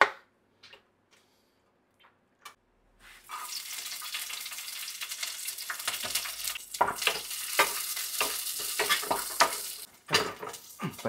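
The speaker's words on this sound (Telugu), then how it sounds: "పచ్చిమిరకాయలు అయితే వేగినాయి" Green chillies frying in oil, a few faint clicks and taps at first, then a sudden loud sizzle that swells with stirring scrapes and crackles before dropping away near the end.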